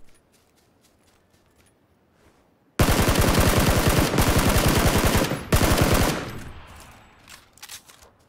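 Sustained full-auto bursts from an Mk14 rifle in a shooter video game: a loud, rapid rattle of shots for about three seconds, a brief gap, then another short burst, trailing into quieter game ambience.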